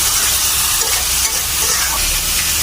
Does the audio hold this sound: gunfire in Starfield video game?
no